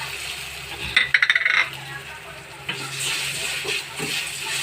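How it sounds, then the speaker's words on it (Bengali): An egg cracked into a pan while cooking samosa filling with chilli, salt and turmeric: a quick cluster of sharp clicks and taps, followed by soft sizzling and stirring in the pan. "আমি একটা ডিম ফাটিয়ে দিচ্ছি"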